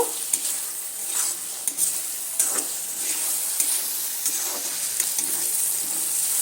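Egg posto masala with cumin and chilli powder sautés in a pan, a soft steady sizzle broken by repeated scraping strokes of a spoon stirring the mixture.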